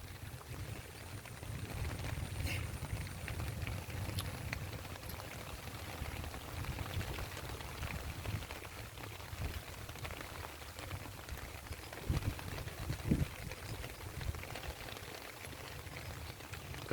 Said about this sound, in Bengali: সকাল থেকে আসার পরে বৃষ্টি।